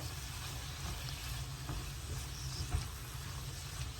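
A sweet corn mixture is stirred in a pan over low heat, giving a faint, steady sizzle with soft scraping touches and no voices.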